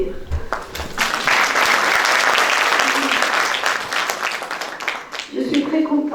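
An audience applauds at the opening of an international conference on preschool education at a faculty of education sciences, sustained loud clapping that swells and fades over several seconds, with a voice speaking briefly near the end.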